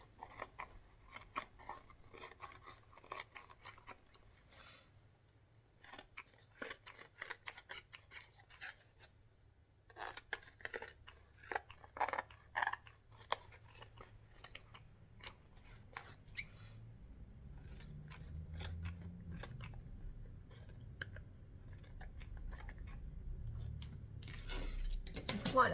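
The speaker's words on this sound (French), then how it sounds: "je vais couper tout autour" Scissors snipping through fleece around the edge of a cardboard piece for a travel jewelry box, with repeated close crisp cutting bursts in irregular runs, then soft rustling and handling noise building toward the end.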